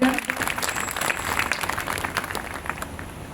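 A church congregation claps together in praise of God, a steady indoor round of many hands that gradually softens, with faint voices mixed in.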